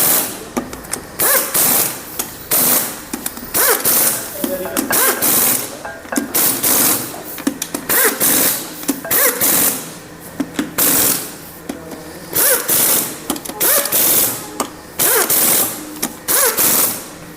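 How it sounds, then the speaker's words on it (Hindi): A pneumatic impact wrench tightens the engine nuts and bolts on a Honda Shine 125 motorcycle during an engine swap, giving loud, close, rattling hammering bursts that stop and start repeatedly with no talk over them. "हम इसको नट बोल्टों को जो टाइट करते हैं वो इम्पैक्ट मशीन से करते हैं"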